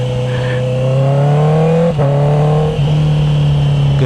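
A Honda CB650R E-Clutch motorcycle on its stock exhaust revs loudly and close by, a steady high engine note with two brief throttle dips and rises.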